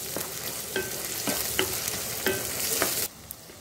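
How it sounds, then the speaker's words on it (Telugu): Ginger garlic paste frying in oil with chillies and tomato for mutton biryani, a steady sizzle broken by several sharp scraping stirs of a spoon against the pan, close and alone before it quietens near the end. "ఇప్పుడు ఇందులో 1 స్పూన్ అల్లం వెల్లుల్లి పేస్ట్ వేస్తున్నాను ఇది కూడా ఫ్రై అవ్వాలి"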